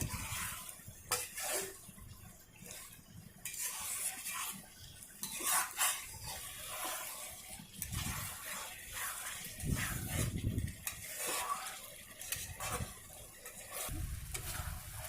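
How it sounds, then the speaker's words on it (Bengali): Spiced chicken curry stirred and fried in a pan, with continuous sizzling and repeated scraping and clinking of a utensil against the pan, close and steady throughout. "এবার আমি এটাকে খুব ভালো করে 10 মিনিট কষে নিব।"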